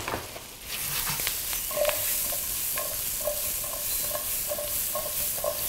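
Beurre blanc sauce with wine bubbling and sizzling steadily in a hot pan, with soft stirring scrapes and gentle popping, close and continuous without talk.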